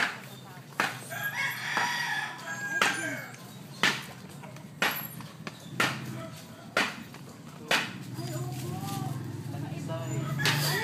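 A gamecock crows nearby, with clucking and sharp knocks around it and people talking in the background.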